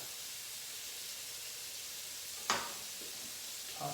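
Minced garlic sizzling with onions in a hot pan for beef stroganoff, a faint steady hiss close by, broken once by a sharp clack of a utensil and a short scraping stir.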